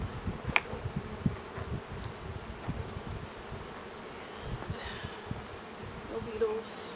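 Honeybees buzz steadily around an open hive during an eight-week inspection, a low continuous hum with a few sharper close passes and light handling noises, no speech.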